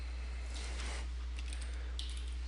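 Someone types on a computer keyboard, with a few soft, scattered key clicks under a constant low electrical hum.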